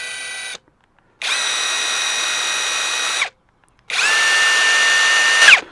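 A Bauer or Hyper Tough 1/4 inch impact driver runs wide open in two sustained bursts, a steady high motor whine each time, loud and close with short silent gaps between, the second ending in a brief wind-down.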